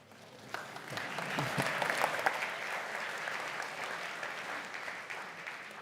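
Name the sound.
audience applause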